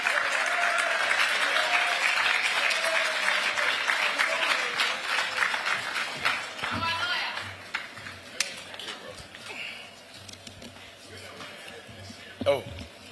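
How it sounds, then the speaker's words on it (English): A conference audience applauds a keynote speaker at a mining industry dialogue, steady dense clapping that gradually thins out into scattered claps, with a voice speaking over it. "Our keynote speaker, a round of applause."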